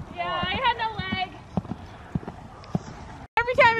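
Hooves of a horse moving past on the ground give scattered, fairly close thuds, mixed with voices talking over them.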